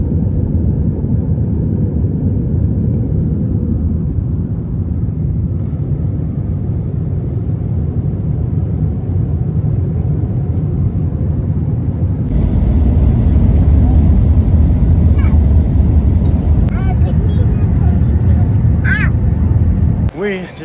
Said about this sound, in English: We just touched down in New Orleans.